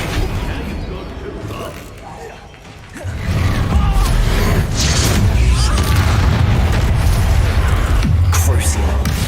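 Spell impacts in Hogwarts Legacy: booming blasts and crashing hits, quieter at first, then a heavy sustained barrage of explosive impacts and rumbling debris from about three seconds onward.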